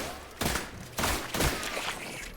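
Gunfire in The Last Caretaker video game gives three muffled, punchy shots about half a second apart, moderately loud, against a steady background hum.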